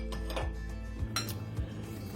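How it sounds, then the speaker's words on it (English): A spoon stirring sugar into a baking soda and vinegar mixture in a dish, with light scraping and a few clinks against the container over a couple of seconds. "and then mix that until all the sugar has dissolved"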